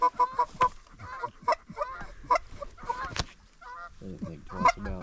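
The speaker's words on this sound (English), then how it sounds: "Oh, ducks." Ducks call during a Canadian duck hunt, a rapid run of loud, close honking quacks repeated in short bursts, with faint voices murmuring underneath.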